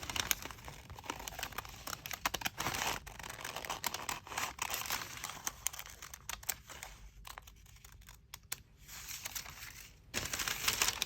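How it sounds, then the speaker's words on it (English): Scissors cut out a paper template in a dense, continuous run of close crinkling snips and rustles that thins and pauses briefly near the end before resuming. "I'm just going to cut out this template."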